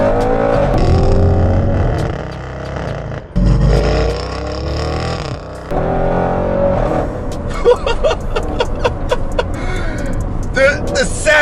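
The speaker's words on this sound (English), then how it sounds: "So just enjoy this little clip of exhaust sound, alright?" Audi RS6 C7 wagon fitted with a Milltek exhaust accelerating hard out of a bend onto a straight, loud engine roar rising through the revs with gear changes and crackling pops from the exhaust.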